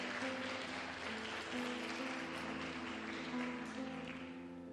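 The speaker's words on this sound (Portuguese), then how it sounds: "Aplauda com fé, com alegria" Church congregation applauding during a sermon, a steady wash of many hands clapping with sustained organ or keyboard tones humming underneath, even in level and somewhat distant.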